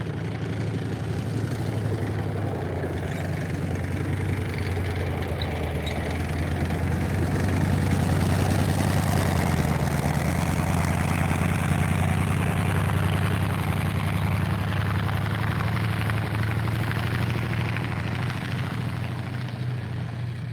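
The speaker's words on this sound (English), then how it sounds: "this one's got the classic radial engine in the back" A WW2 tank's radial engine runs at a steady idle, a deep continuous rumble with a throbbing drone that swells slightly midway, loud and close with no speech.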